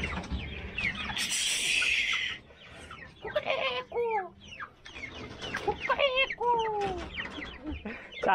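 Chickens cluck and squawk repeatedly close by while feeding in rainy weather, with short rising calls and bursts overlapping and a voice speaking between them.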